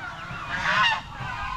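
Domestic geese honk on a backyard farm, a loud cluster of nasal calls swelling in the middle over a steady low rumble, with no voices.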